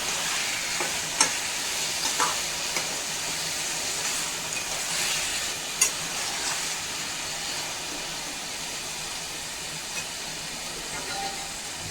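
Potatoes and green chillies stir-frying in a pan, a steady loud sizzle with occasional scrapes and clinks of the spoon, no voices.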